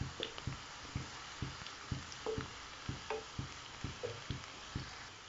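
Finely chopped garlic cloves fry in a pan for chicken with bitter gourd, a faint low sizzle under a regular series of soft spatula scrapes and knocks, about two per second.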